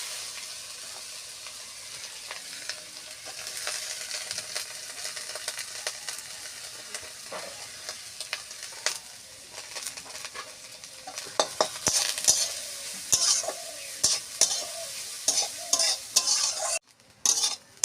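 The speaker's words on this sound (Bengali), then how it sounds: "ঘি দিয়ে গাজরটা ভেজে নেব" Grated carrot frying in ghee in a kadai, stirred steadily with a utensil: a continuous close sizzle with scraping strokes, growing busier with sharp spatula clinks toward the end, no talking.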